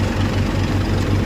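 A 41-horsepower tractor working a coriander field, its engine holding a steady, loud low rumble with an even throbbing pulse and no voices over it.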